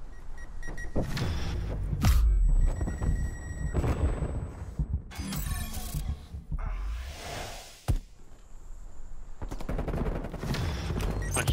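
Gunfire from Call of Duty Black Ops Cold War in Search & Destroy play: bursts of rapid shots and loud booms in irregular clusters, fairly close and dominant, with short gaps between volleys.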